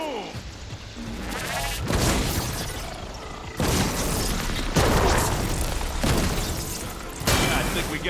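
Explosion in the video game Horizon Forbidden West: a series of loud, dense blasts and crashing bursts, several sharp onsets in quick succession, with people talking over the gameplay.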